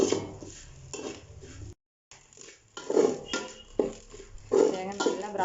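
Coconut roasting in a pan is stirred with a metal utensil, giving repeated scraping and clinking strokes in an uneven rhythm, broken by a brief silence partway through.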